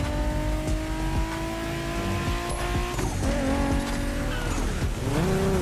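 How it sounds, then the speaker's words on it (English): Ford Mustang Boss 429 muscle car in the racing game The Crew Motorfest, a loud steady engine drone with shifting revs and tire squeal, climbing pitch sweeps after about three seconds and again near five. "There's an absolute classic heading your way. A grail among collectors, and Jim's greatest pride, the Mustang Boss 429."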